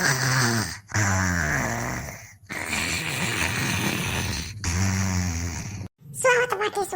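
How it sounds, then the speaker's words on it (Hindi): Snoring-like rasping breaths repeat in long, loud cycles, interrupted by a few pauses, with a voice-like quality throughout. "सुवत बाती खर्राटा सुनाए परत बा"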